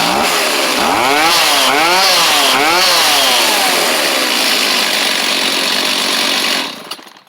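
An old Stihl chainsaw engine cranks up and runs loud and close, revving up and down in a few wavering surges before settling into a steady rough drone that cuts off at the end.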